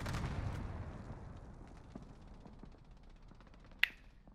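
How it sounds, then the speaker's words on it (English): A single sharp gunshot in a video game battle match, one brief loud crack near the end after a quiet stretch of faint background rumble. "But someone fired one bullet."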